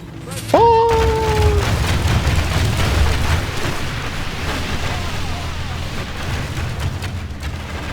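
Volley of fire in a Medieval II: Total War battle: a sudden loud burst of massed shots after a shouted command, trailing off into a long rumbling, crackling wash of battlefield noise.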